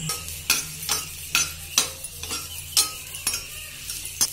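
Onion and copra fry in a pan, a steady low sizzle broken by regular sharp scrapes and clinks of a spoon stirring roughly every half second, close and alone.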